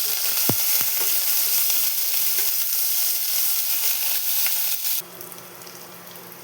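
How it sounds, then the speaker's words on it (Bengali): Chopped garlic and onion sizzling in hot oil in a pan, a steady loud frying hiss with a couple of sharp utensil knocks early on, then the sizzle drops suddenly to a quieter level near the end. "পেঁয়াজ রসুনটা হালকা ভাজা হয়ে গেছে।"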